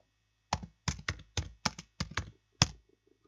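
A computer keyboard is typed on in a short burst of about eight sharp, close keystrokes with uneven spacing, followed by a single firmer key press and then near silence.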